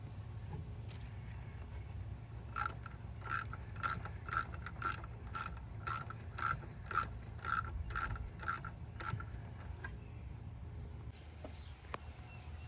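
Clamps being tightened on a Ford Bronco's 2.7 EcoBoost air intake, a quick run of close, rhythmic ratcheting clicks in bursts over a low engine-bay hum, then a pause and a final few clicks.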